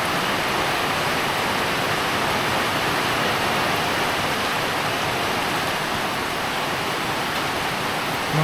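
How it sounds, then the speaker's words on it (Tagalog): Heavy rain pours in a dense, steady hiss that stays loud and unbroken from start to finish, with no voices. "malakas ang ulan"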